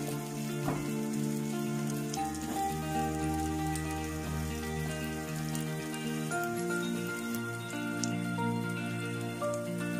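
Guajillo chiles frying in a pan for red chilaquiles, a continuous close sizzle and crackle like light rain on a surface, steady throughout with no talking.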